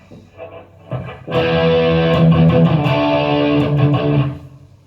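A distorted PRS McCarty 594 electric guitar on its bridge pickup rings out with a thick, sustained chord after a few lighter picked notes, loud and gritty before fading.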